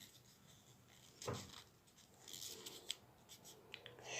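Scissors snipping through material for a finger-size piece, with a few close, crisp cuts and rustling handling at a quiet level, no talking.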